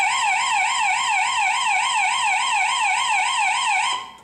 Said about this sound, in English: we also have our emergency siren, which sounds like an old cop car